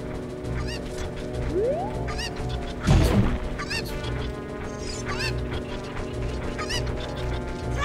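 Chickens in the video game The Legend of Zelda: Ocarina of Time (randomizer), squawking and clucking in repeated short calls over game music, with a louder burst of flapping commotion midway.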